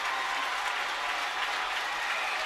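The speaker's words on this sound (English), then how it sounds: "That's Steckbauer getting a big round of applause, I believe, as he comes out." Applause greets a basketball player coming out at a Central versus Merrill high school Division 2 sectional final, dense steady clapping from a large gym crowd filling the space with no voices standing out.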